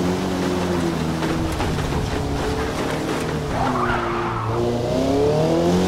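A Mazda MX-5 race car in Forza Motorsport skids off the track onto the grass, loud engine drone with harmonic tones shifting as tires scrub, a rising squeal near the end and a steady roar throughout.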